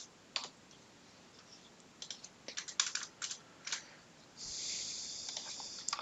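Quiet typing on a computer keyboard: short bursts of light, rapid keystrokes scattered across a few seconds, with a brief soft hiss near the end, close and with no talking.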